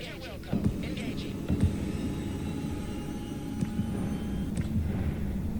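An Apache attack helicopter in the video game Broken Arrow, a continuous low rotor and engine rumble steady throughout, with occasional clicks and faint game sounds layered over it.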